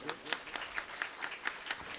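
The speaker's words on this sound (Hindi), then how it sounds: "राजेश साहू के लिए, श्रद्धा सुमन साहू एवं माता जी श्रीमती सुमित्रा देवी साहू के लिए एक बार ताली बजाएंगे।" Sparse audience clapping at a Bhagwat Katha religious gathering, with distinct claps spaced roughly every quarter second in a loose, moderately faint rhythm rather than a full ovation.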